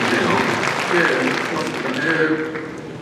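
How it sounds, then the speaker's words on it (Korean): Citizens at a city hall town meeting clap together, a moderate wash of applause that holds steady for a few seconds while a voice carries over it. "질문에 이렇게 박수 한번 부탁드리겠습니다"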